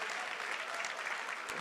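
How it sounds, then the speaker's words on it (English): Audience at a student honors ceremony clapping for Archon inductees, a brief burst of even, continuous applause heard at moderate distance. "one last round of applause, please, for our Archon inductees"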